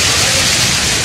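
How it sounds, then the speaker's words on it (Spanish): Heavy rain pours down in Cali, a dense, loud, close roar of water with no breaks over a brief moment. "Tremendo aguacero a esta hora."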